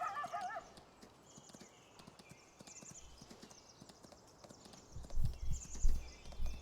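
Horse hooves clip-clop in Farming Simulator 19, a steady run of light hoof taps that grows louder and heavier toward the end as the animals move closer, with occasional faint voices in the background.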